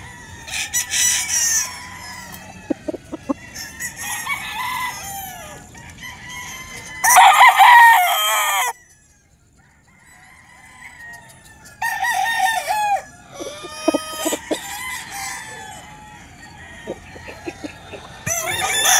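White Kelso gamefowl stags and broodcocks crow repeatedly on a game farm. Several loud, drawn-out calls overlap or follow one another, some near and some farther off, with scattered clucks and short quiet gaps between bursts.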